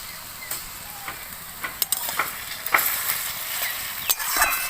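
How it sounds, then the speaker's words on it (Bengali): Onion browned in a pan with ginger-garlic paste, frying and sizzling steadily while a spoon stirs and scrapes with scattered clicks, close by, with no voices. "মশলাটাকে আমি খুব ভালো করে একটু কষিয়ে নেব।"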